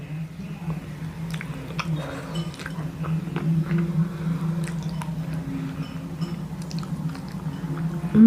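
Hard chicken feet with tough bones being bitten and chewed up close: steady wet, squishy mastication with occasional sharp crunchy bites over a low background hum.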